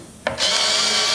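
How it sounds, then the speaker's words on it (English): A T15 Torx driver whirs up to steady speed, pulling screws from the underside of a C8 Corvette. A brief click comes first, then a sustained high-pitched electric drone, close and loud. "I'm going to put my 15 Torx on here, and I'm going to start pulling these Torx screws"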